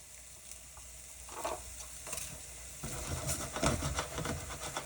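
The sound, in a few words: omelet eggs frying in a pan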